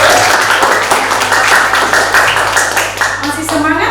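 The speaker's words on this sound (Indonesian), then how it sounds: "kita beri aplaus" A classroom of students claps together in a burst of applause, the clapping steady and fairly loud at first and thinning toward the end, with voices mixed in.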